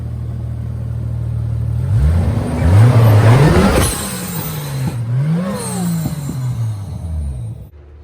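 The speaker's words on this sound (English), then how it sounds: "rev it one more time" A Subaru fitted with new coilovers revs its engine in winter, a close, loud rumble that climbs and falls through several throttle blips before cutting off at the end.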